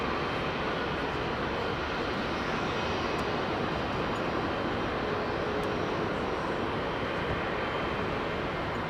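A Boeing 777 engine at London Heathrow Airport gives a steady, broad roar that holds evenly throughout without pause.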